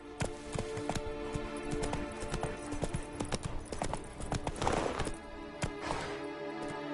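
A horse's hooves clip-clopping in the video game The Witcher 3: Wild Hunt, a steady rhythmic run of sharp hoof strikes, close and prominent, with brief faint speech nearby.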